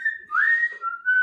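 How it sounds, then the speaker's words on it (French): A person whistles a short melodic phrase alone, a clear tone sliding up and holding, then dipping to a lower sustained note before rising again, close and fairly loud. "ce passage de notes, il est vachement difficile en sifflant"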